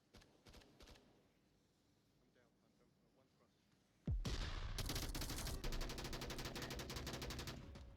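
Gunfire in the VR shooter Onward: scattered shots early, then a sudden sustained burst of rapid fusillade that fills the rest, loud and dense.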